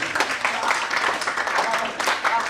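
Students in a school visit session clap together briefly, a busy burst of hand claps with some voices mixed in, rising again near the end.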